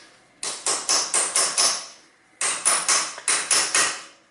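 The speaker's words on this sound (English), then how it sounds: "there is this my pin and hammer, and then I hammer that little bit" A hammer strikes a pin to knock out a dent during a front-wheel-drive car clutch replacement: two close bursts of about six sharp, evenly spaced metallic taps, separated by a short pause.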